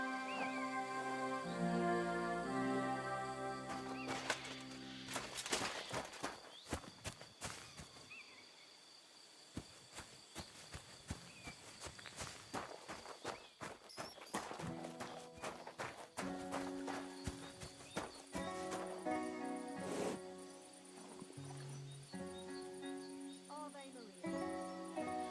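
In Kingdom Come: Deliverance II, a grey horse's hooves clip-clop in a steady walking rhythm with occasional snorts, set against crickets and game music, while characters talk over it.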